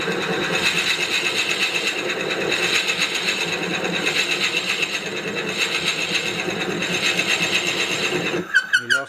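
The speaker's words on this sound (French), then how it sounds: "Maintenant, avec la mèche bien fixée dans mon Jacob, je suis prêt à percer." A wood lathe spins a drill bit held in a Jacobs chuck, boring into a wooden workpiece for a pepper or salt mill. It gives a steady, close, rhythmic whirring drone that cuts off abruptly near the end.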